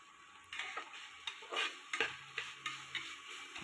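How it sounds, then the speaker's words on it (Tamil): Onion, ginger and garlic sautéing in a pan for a chicken curry, a faint sizzle with repeated light scrapes and taps of a spoon against the pan, roughly every half second. "வெங்காயம், இஞ்சி பூண்டு எல்லாமே சேர்த்து மொத்தமாக வதங்கி வரட்டும்."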